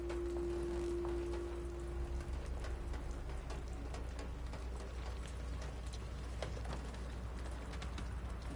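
Steady pouring rain in the video game Detroit: Become Human, a dense, even hiss of downpour that holds throughout with no voices over it.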